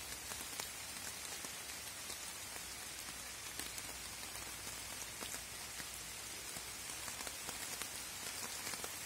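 Steady rain falls on a plastic shelter in a forest, a dense hiss of patter with sharp individual drops tapping the sheet, constant and fairly close.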